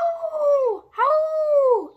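A voice imitates a pack of wolves howling back, two separate long howls in a row, each holding steady and then sliding down in pitch.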